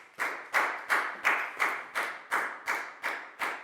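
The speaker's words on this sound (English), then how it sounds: "High five and a big round of applause for Pang Pon" A classroom of children claps together for a classmate in slow, unison beats, about nine evenly spaced rhythmic claps, close and clear with no talking.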